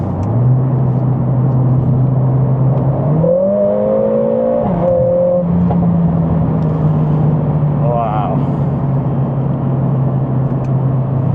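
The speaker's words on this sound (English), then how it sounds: "Just on the motorway, just have a little bit of acceleration." A Mercedes A45 S AMG with a RaceChip tune accelerates on a motorway, its engine drone rising in pitch then holding steady over constant road and wind noise inside the cabin, with one brief spoken exclamation.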